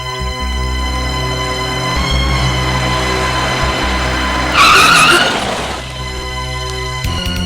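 A car in a Malayalam classic drama scene drives closer with a steady engine hum, then its tires screech briefly in a loud skid before the sound eases off.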